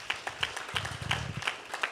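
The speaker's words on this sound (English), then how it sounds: "Please clap for them" An audience at a cultural program concert claps for the teachers, scattered soft applause with distinct individual claps, fairly faint and distant.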